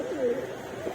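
Pigeons in a loft cooing, a soft rolling coo close by that swells and fades within a second.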